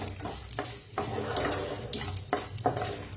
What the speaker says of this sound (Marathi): हरभऱ्याची डाळ आणि उडदाची डाळ घेतलेली आहे, 1 चमचाभर घेतलेला आहे। आता ह्याला भाजून घेऊया